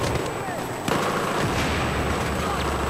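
Shotgun blasts in Battlefield 4 on the Operation Locker map, sharp bursts over dense continuous gunfire and battle noise, with a strong hit near the one-second mark and players talking over the action.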